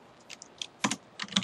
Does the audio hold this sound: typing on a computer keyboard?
yes